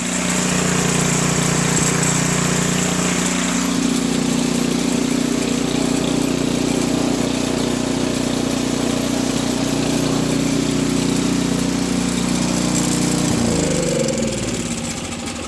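Craftsman snowblower engine running outdoors during a drive cable test after repair: a loud, continuous small-engine drone with steady mechanical chatter that holds throughout, then shifts pitch near the end as the load or speed changes, with no talking.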